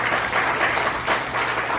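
A church congregation at Church of Christ San Pedro claps together in worship, a dense, steady round of applause filling the hall for the whole moment without speech.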